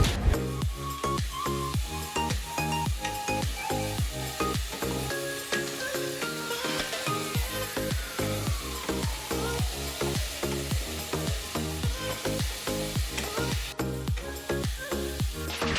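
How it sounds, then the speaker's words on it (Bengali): Spice paste with cumin and coriander powder frying in a pan alongside potatoes, a constant sizzle marked by rapid, regular stirring strokes and scrapes close up throughout. "আর একটু নাড়াচাড়া করে আমরা দিয়ে দেব জিরের গুঁড়ো আর ধনে গুঁড়ো"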